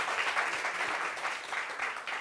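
An audience on a French talk show applauds a guest, a full, continuous burst of many people clapping that swells and dips slightly but keeps going the entire time.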